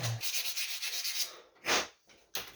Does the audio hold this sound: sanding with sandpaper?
yes